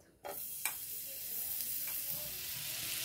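Butter hits a hot pan with a sudden hiss that settles into a steady, bright sizzle, close by, with a couple of faint utensil clicks early on and no talking.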